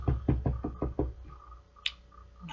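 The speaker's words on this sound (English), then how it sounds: "there was a little knock at the door." Five quick, close knocks rap on a door in an even rhythm, then quiet follows with a faint brief sound afterward.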